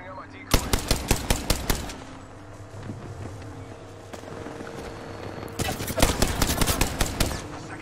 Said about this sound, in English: Second squad is firing at us.